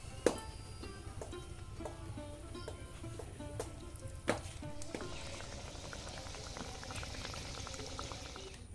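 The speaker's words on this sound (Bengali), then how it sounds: "হালকা করে আমি এইভাবে ভেজে তুলে নেব।" Spinach kachori frying village-style in oil that is only moderately hot, a steady low bubbling with a few sharp pops early on, swelling into a louder, hissing sizzle midway and holding there.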